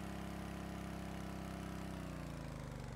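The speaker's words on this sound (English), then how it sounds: "Now I hear your engine running this time." Engine idling steadily in the Stormworks video game, a continuous mid-low drone with an even pulsing rhythm that holds at a constant level throughout, no voices over it.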